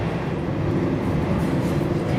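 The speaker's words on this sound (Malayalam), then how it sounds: "നിരവധി ടണലുകൾ കടന്നാണ് ട്രെയിൻ പോകുന്നത്." Train running through a tunnel in Germany, a steady loud low rumble and rolling roar from inside the carriage, continuous for the whole stretch with no voices.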